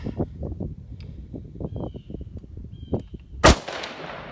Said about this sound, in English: I'm shooting this beautiful beast